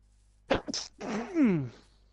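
A single sharp sneeze, close and fairly loud, with a quick inhaled lead-in and a drawn-out voiced tail that slides downward, heard on its own during a Minecraft survival game session.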